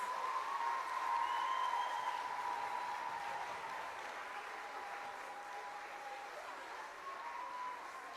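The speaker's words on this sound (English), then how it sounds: "Give all these folks a round of applause." Applause from the audience at a middle school spring choir concert for the choir students, sustained moderate clapping in a hall, with a faint tone running through it.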